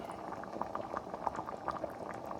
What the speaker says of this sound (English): And now it's doing some boiling, which I like it.